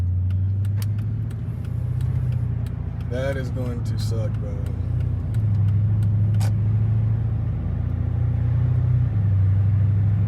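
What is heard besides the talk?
Dodge Charger SRT8 engine rumbling and popping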